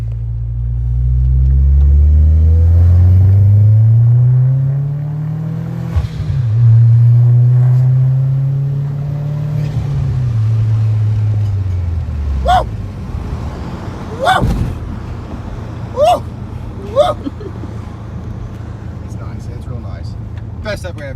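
An Audi A4 1.8T fitted with a K04 turbo pulls hard, its engine note rising loud and close for about ten seconds before easing off into a lower rumble with a few sharp clicks.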